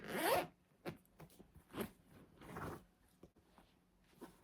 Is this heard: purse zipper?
yes